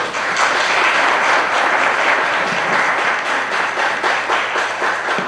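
A conference audience gives a dense, sustained round of applause, many hands clapping loudly and evenly throughout with no pauses.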